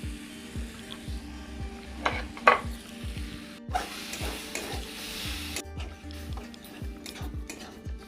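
Jaggery stirred into a pan of chaltar (elephant apple) pickle with turmeric, giving a soft sizzle and a steady rhythm of scraping stirs across the pan.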